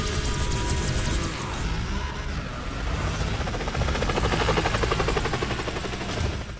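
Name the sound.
attacking helicopter in video game Split/Second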